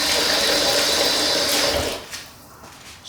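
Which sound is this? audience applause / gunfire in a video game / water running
water running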